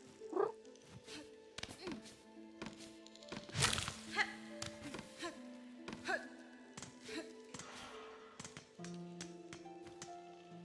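A person's voice imitates a cat, with short mewing and purring sounds mixed among taps, thunks and light game noises during a Silksong stream, and talk around it.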